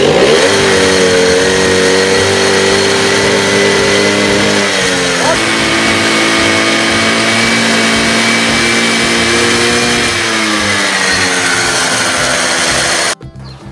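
A scooter engine spun up with a power drill catches and revs loudly and continuously close by, its pitch climbing and dropping as the throttle changes, then cutting off abruptly at the end.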